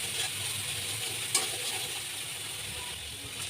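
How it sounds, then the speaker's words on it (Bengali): Spice paste with garam masala powder is stir-fried in a pan, giving a steady, even sizzle with one brief scrape of a utensil partway through. "তারপর মশলাটা আবার একটু কষিয়ে নিচ্ছি"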